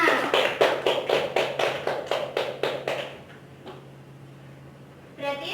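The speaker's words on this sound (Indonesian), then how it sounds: "Tepuk tangan untuk Mbak Salma." A classroom audience claps in unison during a microteaching lesson on corporate taxpayers: about ten loud, evenly spaced rhythmic claps over three seconds, then the room goes quiet with a faint murmur and a brief stir at the end.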